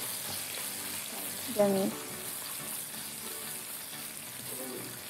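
Onions, sausage and other ingredients fry in a pan with a steady, close hiss while being stirred, a brief scrape and a short spoken word rising above the constant sizzle.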